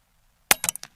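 Single shot from a Western Airguns Rattler .30 regulated select-fire PCP airgun, a sharp close crack followed by a few quick rattling clicks, alone after a moment of silence.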